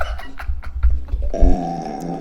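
A loud, close, drawn-out human burp rumbles low and guttural, then shifts into a sustained voiced tone at the end.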